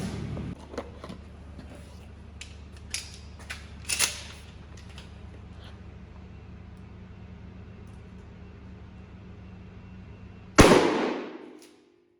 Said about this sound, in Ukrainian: Стріляти будемо з відстані 20 метрів дроб'ю